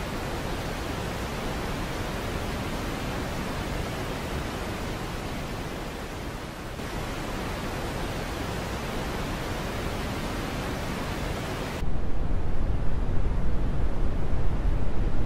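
Steady broadband hiss, smooth and even, shifts twice to a slightly different tone, the last section louder and duller with less high-end sizzle.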